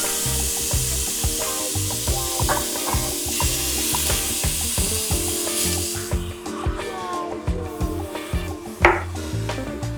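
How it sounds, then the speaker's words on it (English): Ground beef browning in a skillet, a loud close sizzle with rhythmic scraping strokes of a spatula across the pan; the hiss thins out midway while the stirring and scraping continue. "Begin by browning the ground beef in a skillet or large pan."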